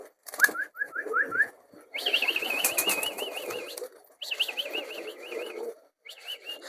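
Domestic pigeons flap their wings in bursts around a home loft, with whistly, warbling bird calls over the rustling flutter, close and fairly loud, broken by short pauses.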